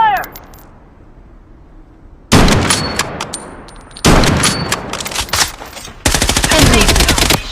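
Bursts of automatic weapon fire in the shooter game Bloodstrike, three loud sharp volleys after a quiet start, each lasting a second or two with crisp repeated shots.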